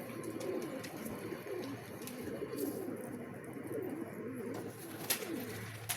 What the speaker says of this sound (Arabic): هيا الحمام